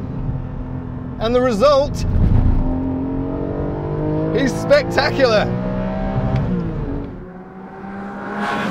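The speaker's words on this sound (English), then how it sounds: "in place of its four-cylinder turbo engine, there's a naturally aspirated 4-litre flat six." The naturally aspirated 4.0-litre flat-six in a Porsche Cayman GTS revs up through rising pitch sweeps, loud and close, before easing back to a lower drone, while someone talks over it.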